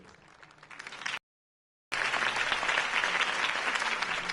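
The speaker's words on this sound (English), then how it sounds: "If only Mr. Wayne, my campaign's largest backer, could have heard that applause" Crowd applause after a campaign speech for Harvey Dent in the Batman Telltale video game, a steady dense wash of clapping that cuts out briefly and then returns louder and sustained.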